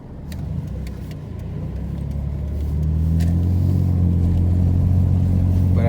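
A 1999-2004 Ford Mustang drives along with worn U-joints, its engine a steady close low rumble that rises and thickens as it accelerates, with faint clicks inside the cabin.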